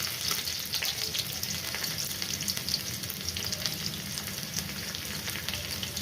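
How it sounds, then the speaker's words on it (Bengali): Chopped onion with a bay leaf frying in oil in a pan gives a loud, steady, close sizzle with faint stirring scrapes, and no one talks throughout. "দিয়ে আমি এই পেঁয়াজ কুচনোটা ভাজা করব"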